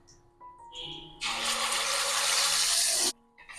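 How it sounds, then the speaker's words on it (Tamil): Running tap water pours steadily for a couple of seconds into a mixer-grinder jar being rinsed, loud and close, then cuts off, with faint kitchen clatter around it. "மிக்ஸி ஜார் அலம்பி அதை தண்ணியும் விட்டுருவோம்."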